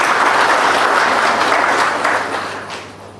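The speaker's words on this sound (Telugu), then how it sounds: "వారికి ఒక్కసారి గట్టిగా చప్పట్లతో అభినందనలు తెలియజేశారు." Loud, dense audience applause for a guest at a Lions Club and walkers club charity food-distribution event, steady throughout and tapering off toward the end.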